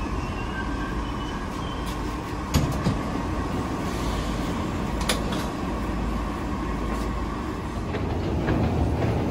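Steady rumble and hiss of a train carriage riding toward Kursky station in Moscow, with a few faint clicks and knocks over continuous rolling noise throughout, no talking.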